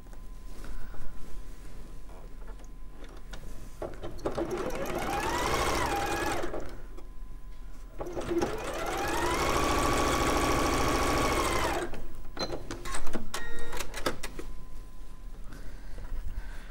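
A sewing machine stitches a quarter-inch seam in steady bursts, its motor whirring up and down in speed with a rhythmic needle clatter, close and fairly loud, pausing briefly between runs.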